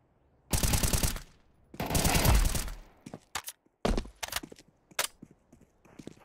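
Bursts of automatic gunfire in Counter-Strike 2 ring out loud and close, two long sprays followed by several shorter, sharper volleys and single shots.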